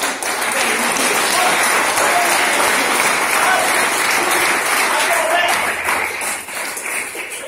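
Sustained applause from an audience at a motivational talk, dense and loud clapping that continues for several seconds before thinning out slightly near the end.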